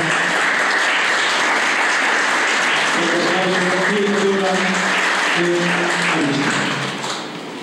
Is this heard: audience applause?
yes